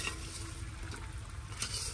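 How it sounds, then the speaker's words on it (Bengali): Fish coated in spice paste fry in oil in a pan, producing a soft, steady sizzle with light crackling that stays low and continuous through the short stretch. "অনেক সুন্দর ভাবে মাছগুলো ভাজছি।"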